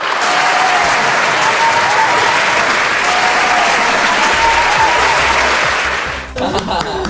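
Loud, dense applause from a trivia show audience for the winner of an Ultimate Frisbee quiz, sustained clapping that cuts off near the end as a voice comes in.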